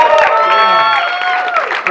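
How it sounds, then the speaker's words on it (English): Comedy club audience applauding a comedian at an after-hours show, a dense wash of clapping with scattered cheers and whoops close by, under a loud voice speaking over it. "We also get a round of applause for Richie"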